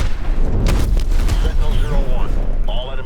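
Enemy ship blowing up in Call of Duty: Advanced Warfare, a loud continuous rumble of blasts and booming explosions with overlapping game effects and radio chatter running throughout.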